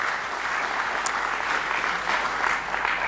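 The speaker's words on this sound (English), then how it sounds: "let's give a round of applause for our institute boss" A crowd at a conference talk applauding steadily, a dense wash of clapping that holds even for a few seconds.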